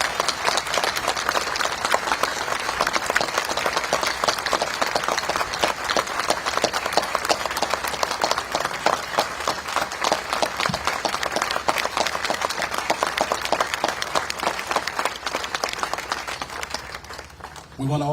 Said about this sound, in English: let's give them a round of applause. The families and the survivors.